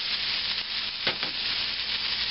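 Frozen onions sizzle steadily in a hot pan for Japanese-style fried rice, a close, even frying hiss with a brief stirring scrape midway and no voices.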